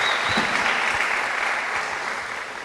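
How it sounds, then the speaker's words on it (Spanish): A church congregation at a Sunday service applauds, a steady wash of many hands clapping that gradually softens toward the end, heard close with no talking over it. "Dame un aplauso al Señor"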